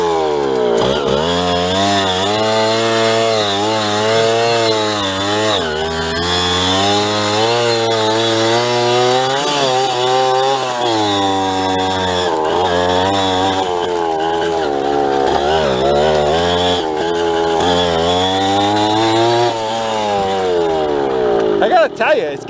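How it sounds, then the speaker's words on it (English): Small engine of an old mini bike that sat thirty years in the woods, revving loud and near with its pitch repeatedly rising and falling, while people talk over it. "Come on, rev up."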